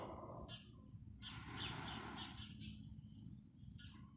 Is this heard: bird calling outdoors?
yes